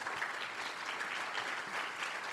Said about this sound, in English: If you can give a big applause already now to thank them for